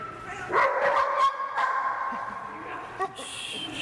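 A search dog barking and yipping in alert after finding a hidden person outdoors, a few close sharp barks in quick bursts mixed with vocalizing over a quiet background.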